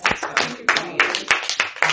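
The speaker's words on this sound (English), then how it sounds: "Give God a hand clap of praise" A church congregation clapping together in praise during a worship service: a steady series of about eight sharp, fairly loud claps at a regular rhythm, with some voices underneath.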